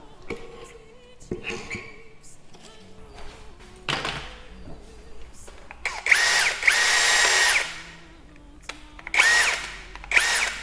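A cordless impact hammer drill drives a screw in several close, loud whirring bursts, the longest running about two seconds, separated by quieter clicks and handling knocks.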